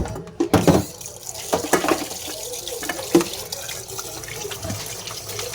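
Tap water runs and splashes into a cooking pot being filled for sinigang soup, with irregular gushing bursts and clanks, close and moderately loud.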